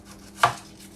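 A single crisp knife chop through food on a cutting board while preparing Spanish rice, one short sharp thud in a quiet kitchen.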